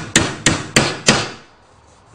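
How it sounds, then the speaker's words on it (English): A hammer drives a nail into the wooden stretcher of a handmade stool: four sharp, evenly spaced blows close up, each ringing briefly before the work falls quiet. "Just check things don't move around when you're bashing in your first nail."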